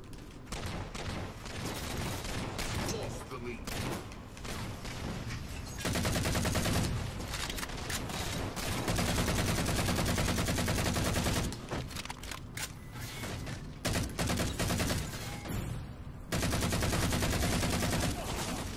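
Assault rifle fire in Halo 4 multiplayer, dense continuous bursts of automatic shots loud and close throughout, with brief pauses between volleys and game effects layered over the shooting.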